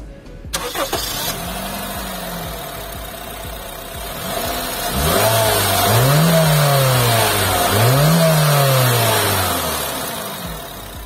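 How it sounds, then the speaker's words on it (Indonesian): A Honda Freed car engine cranks and starts, settling into an idle, then revs up twice in rising and falling sweeps, close and loud. "Kalau gitu, put on the brake, kita coba start up dulu."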